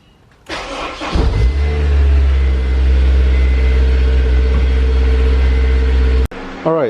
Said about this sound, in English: Just go ahead and fire her up.